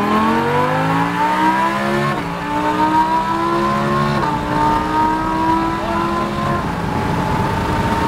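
A Lamborghini Huracan accelerates hard around Portland International Raceway. Its loud, close engine note climbs steadily through the gears, with quick shifts dropping the pitch about every two seconds before it winds up again.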